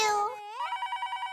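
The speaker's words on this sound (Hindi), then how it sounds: "फोन आया।" A telephone rings indoors in a home, a bright electronic ringtone that follows a short musical chime, pulsing in quick, even repeats close by and loud.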